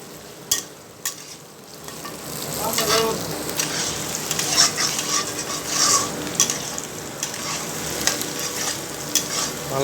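Black cardamom, cinnamon and bay leaves frying in oil for a homemade chicken curry, a continuous close sizzle broken by repeated sharp spatula scrapes and knocks against the pan, no talking.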